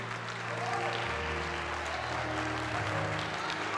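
A church congregation claps hands together in sustained, dense applause that fills the space evenly from start to finish, with organ or music tones humming underneath.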